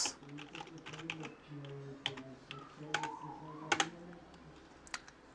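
Fingers tap out a terminal command on an Android device keyboard, a run of light irregular clicks at close range, with a brief soft tone and a few louder taps partway through.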